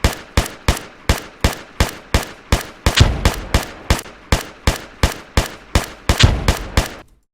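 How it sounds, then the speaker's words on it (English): ArmA 3 video game gunfire rings out in a steady series of sharp, loud shots, about eighteen in all, with two heavier grenade blasts mixed in, close and punchy. "I throw the grenade, and you can see and hear that the grenade is louder than the gunshot"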